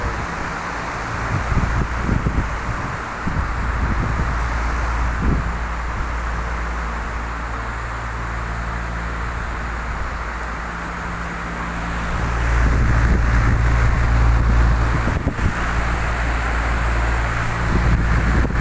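Steady low droning hum of Mitsubishi Heavy air conditioner fan motors running continuously, with a broadband whoosh of moving air that swells louder partway through.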